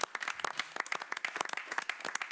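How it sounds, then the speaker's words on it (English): Scattered applause from a small audience at a county board of commissioners meeting, distinct individual claps forming an uneven, sparse patter that carries through the short stretch. "A round of applause."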